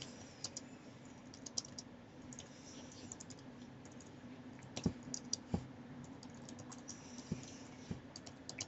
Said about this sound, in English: So for that one, I type prompt.